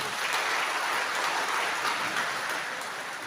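Audience at a Maulid Nabi religious gathering applauds steadily, a dense, continuous wash of clapping that holds at an even level throughout without pause.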